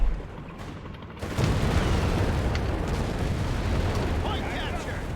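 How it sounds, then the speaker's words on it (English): A dense, continuous roar of Company of Heroes 3 battle noise, rumbling explosions and gunfire blending together at a loud, steady level after a quieter opening. "More exchanges of gunfire."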